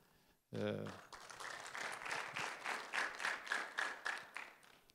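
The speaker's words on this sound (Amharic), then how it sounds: "ይሄ ሶሳይቲ ግን በደንብ ጭብጨባ የለመደ ነው" An audience at a talk on neuro-linguistic programming bursts into applause after a brief voice, the clapping rising in dense rolling waves that swell and ebb for several seconds, moderately loud in a hall.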